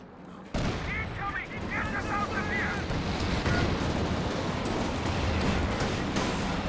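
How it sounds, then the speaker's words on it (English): A Jackson tank destroyer fires in Company of Heroes amid a continuous roar of battle, heavy booms and crackling gunfire layered thickly and loud throughout. "huge shot there from the Jackson"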